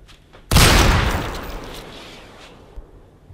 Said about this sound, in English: I use the gun for those especially stupid suggestions